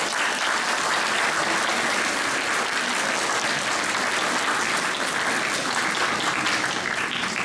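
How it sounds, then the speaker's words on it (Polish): An audience applauds performers after a nativity play at a Three Kings procession event, with thick, sustained clapping from many hands that stays loud and even for the whole stretch, without talk. "a przede wszystkim naszym artystom wielkie brawa"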